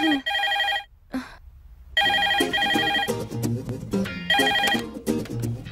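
A mobile phone rings loudly and close with a repeated electronic tone, cutting off briefly before resuming in bursts, while dramatic movie music and effects play underneath in an action film scene.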